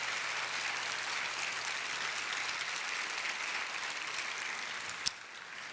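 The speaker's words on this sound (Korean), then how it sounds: "그래서 한 번 더 크게 박수해 주시기 바랍니다." Church congregation applauding at a Sunday evening youth praise worship service, a steady dense wash of clapping held throughout, with a brief sharp knock near the end.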